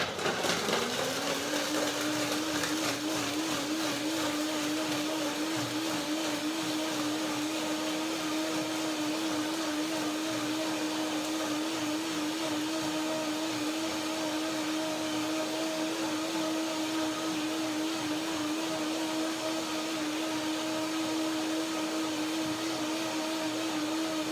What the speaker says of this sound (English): I will blend a second time